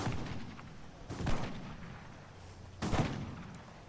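Gunfire in the video game Fortnite comes as two quiet bursts of rapid shots about a second and a half apart, over a low constant game background.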